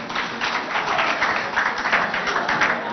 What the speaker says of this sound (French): On applaudit pour mon directeur, s'il vous plaît.